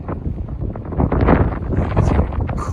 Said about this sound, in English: The wind is, I'd say, 35 to 40 miles an hour